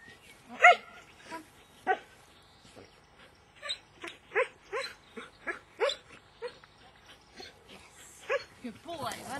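A dog barks and yips in short bursts and whimpers in between, close by, during a training session while a man praises and rewards it.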